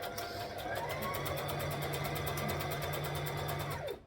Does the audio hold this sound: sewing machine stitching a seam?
yes